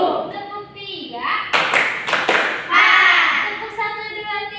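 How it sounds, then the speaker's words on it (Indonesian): Small children in a classroom clapping their hands in short counted bursts, a few sharp close claps separated by a teacher's spoken counting. "Tepuk 1. Tepuk 2. Tepuk 3."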